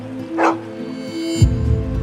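A dog barks at Geronimo the donkey: a sharp bark, a short pause, then a deeper, rougher burst close by over a steady low hum.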